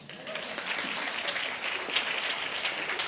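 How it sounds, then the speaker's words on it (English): Moderate audience applause at a European health conference, a steady wash of many hands clapping for a few seconds, somewhat distant and without speech. "A big round of applause to Irene"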